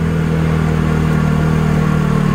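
Red tricycle engine labouring up a steep hill with the throttle held steady at low speed, a loud, close, continuous drone with no let-up.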